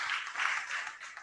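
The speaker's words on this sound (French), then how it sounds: "Vous pouvez le raccompagner sous vos applaudissements s'il vous plaît." A conference audience applauds briefly as a speaker is seen off. The clapping is a soft, diffuse wash with no voices over it.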